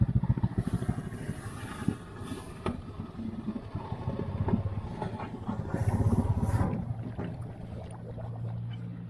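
Honda Rubicon ATV engine idling in a steady low rumble, loud and close, with outdoor noise and swells in level before it cuts out near the end.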